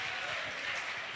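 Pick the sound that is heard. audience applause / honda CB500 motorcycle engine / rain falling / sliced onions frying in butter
audience applause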